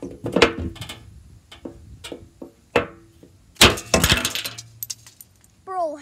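A computer mouse is smashed against a table and breaks, giving sharp plastic cracks and clattering impacts in quick bursts. A sharper crash comes partway through, then scattered clinks of pieces, with a brief voice at the end.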